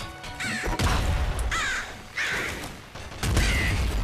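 Cawing bird calls from a dying bird in the Nuclear Throne video game, several harsh crow-like squawks in quick succession over a loud burst of crashing game noise, with no talking.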